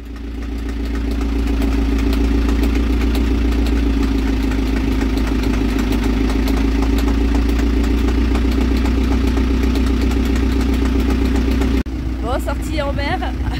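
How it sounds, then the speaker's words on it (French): A faulty boat engine runs steadily with a deep, throbbing idle and rattling clatter, loud and close, continuing unbroken until a brief shift near the end. "le moteur refait des siennes"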